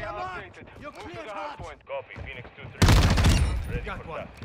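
A Tempus Razorback fires a rapid automatic burst in a Call of Duty video game, loud and close for about a second and a half, after someone talking.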